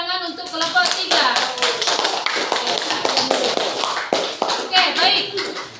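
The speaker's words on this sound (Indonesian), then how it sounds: "berikan tepuk tangan untuk kelompok 3" A classroom group claps for group 3, a dense burst of close, sharp hand claps with a rapid, uneven rhythm, with children's voices mixed in beneath.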